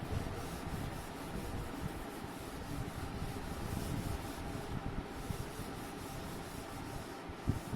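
Steady, soft rubbing of an eraser or cloth across a classroom board, a continuous scratchy friction sound with no talking.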